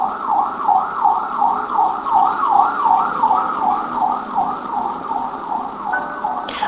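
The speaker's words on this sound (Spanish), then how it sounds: "La sirena de una ambulancia" A wailing emergency siren from an ambulance or police car passes at a roundabout, its pitch sweeping up and down in a steady, fast cycle, loud and continuous over low road traffic rumble.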